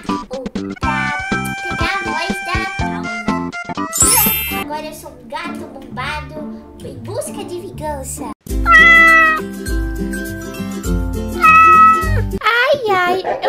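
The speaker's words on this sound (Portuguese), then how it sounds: "Olha, um gatinho." A cat meows repeatedly in a Roblox game, the cartoonish meows cutting in and out over background music with a voice talking throughout.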